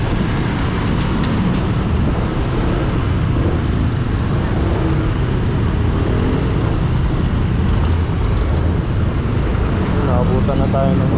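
Dense city traffic noise at a stoplight in Ortigas, heard from a motorcycle as a constant loud roar of engines and road rumble, with a faint horn-like tone near the end.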